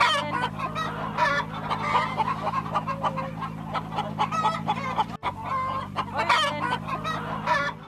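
Pastured laying hens on a farm cluck steadily in a busy, continuous chorus with an occasional rooster crow, the flock close and fairly loud throughout with no talk.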